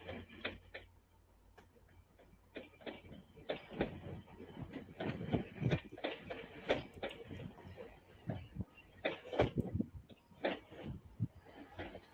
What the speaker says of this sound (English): Hey, I think we got a train coming